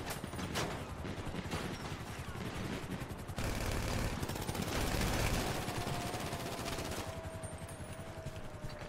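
Rapid bursts of automatic gunfire in a video game firefight rattle almost nonstop, dense and loud, with brief shifts in intensity and a faint tone near the end.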